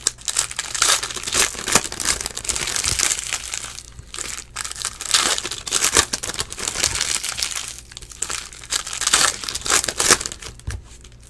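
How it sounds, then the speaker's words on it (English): Foil packs of 2015 Prizm football trading cards being torn open and crinkled, with steady, close crackling and ripping that swells and fades in bursts, and no one talking. "I am opening up the packs of cards right now."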